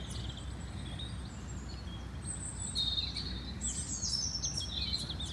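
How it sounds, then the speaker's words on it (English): Birds chirp and sing faintly in the distance over a steady low outdoor rumble beside a canal, with scattered high calls becoming busier toward the end. "Oh, can you hear the birds singing?"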